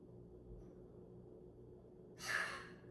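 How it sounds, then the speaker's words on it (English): A single short, breathy cough from the little one, sharp and fairly close, breaking a quiet room with a low steady hum near the end. "That's our little man coughing."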